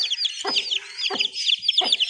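A mother hen clucks close by in three short, evenly spaced bursts, with busy chirping from her hatched chicks in the background.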